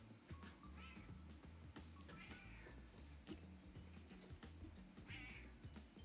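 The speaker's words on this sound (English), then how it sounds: "we have a cat appearance" A pet cat in a room during a tabletop X-Wing game session meows three times, clear short calls over a steady bed of background sound, with a person speaking nearby.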